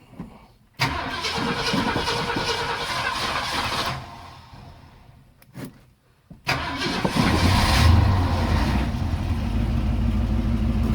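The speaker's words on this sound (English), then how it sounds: "turn the ignition on" A 1967 Ford Galaxie cranks and fires, its engine catching with a loud roar, dropping off, then restarting after a brief silence and settling into a steady, close rumbling idle.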